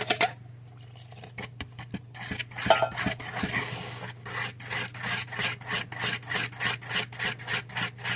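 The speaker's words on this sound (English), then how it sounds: "I stir in the middle first." Apple cobbler dry mix being stirred in the middle, building into a steady, rhythmic series of close raspy scrapes and rubs with no talking.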